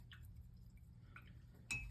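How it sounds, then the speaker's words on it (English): A paintbrush rinsed in a water container during an acrylic painting session: faint, sparse drips and small glassy clinks and splashes, ending with a sharper clink near the end. "I'm going to put that brush in the water and clean it."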